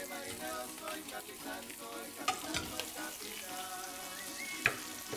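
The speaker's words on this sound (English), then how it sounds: "Using the same oil that you cook the chorizo in, cook the bacon." Bacon sizzles and fries in leftover chorizo oil, a steady close crackle with a few sharper stirring scrapes and pops along the way, no talking.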